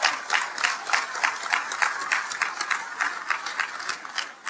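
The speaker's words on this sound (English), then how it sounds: "Can you give them all a big round of applause for helping make this happen?" An audience at a naturalization ceremony applauds, with many hands clapping in a steady, fairly close patter that holds evenly throughout and then thins slightly at the end.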